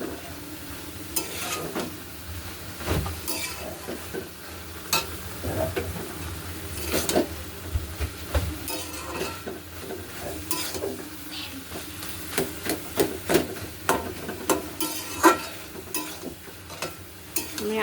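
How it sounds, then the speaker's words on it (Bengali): A spatula stirs and knocks bottle gourd peel and prawns in a frying pan, with soft sizzling under a series of irregular scraping and tapping strokes against the pan. "এটা একটু খুন্তি দিয়ে এইভাবে বাড়ি দিয়ে দেবেন"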